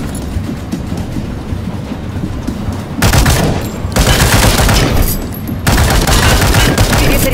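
Gunfire in the World War Heroes video game on Android: dense, loud bursts of automatic fire and rapid shots, with a slightly quieter stretch at first and then sustained, heavier volleys close by.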